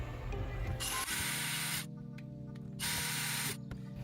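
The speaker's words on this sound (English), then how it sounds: "Finish the screws off." Screws being driven into a 3D-printed grenade launcher part by a power driver, with two sustained whirring bursts, close and steady, separated by a brief pause with faint mechanical clicks.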